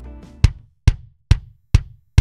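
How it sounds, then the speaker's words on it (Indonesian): A kick drum from a VST drum kit in Studio One thumps five times at a steady, moderate pace, each hit punchy and deep with a short boomy tail, played alone after a brief low tone. "Nah, kick ya, berarti kita kasih nama kick."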